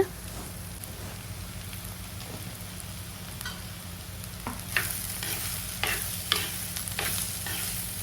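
A utensil stirs and scrapes ash gourd in a sizzling pan, with steady frying hiss throughout and a few louder clinks and scrapes toward the end.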